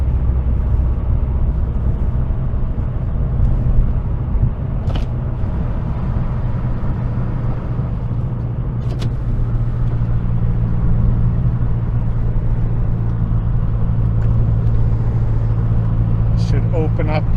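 A turbocharged Saab engine on base boost rumbles loudly and steadily from inside the cabin, with a low droning tone and faint turbo whistling bursts rising now and then.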